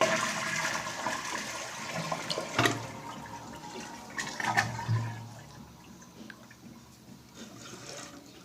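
Water runs steadily in a toilet tank that keeps running past its float, a soft continuous trickle and hiss with a few small clunks, close by.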